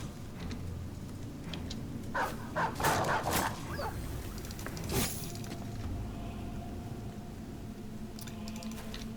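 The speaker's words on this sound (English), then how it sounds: "Brave dog getting in there." Dog in a video game giving a short burst of barks and yelps amid rough scuffling, with one more sharp bark after a pause, over a steady background hum.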